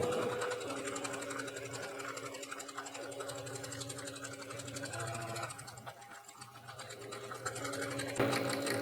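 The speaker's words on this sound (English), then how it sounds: "we're sewing right over this fold so it stays folded down" Quilted reusable bag being stitched on a sewing machine over a folded seam, a steady rapid mechanical whir running almost continuously, close and fairly loud, with a brief pause near the end.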